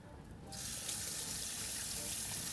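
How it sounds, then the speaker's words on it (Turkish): Tap water gushes steadily into a sink for handwashing in a home kitchen while baking a börek, switching on after a half-second of quiet and running loud and continuous. "bir daha bir ellerimi yıkayıp geleceğim"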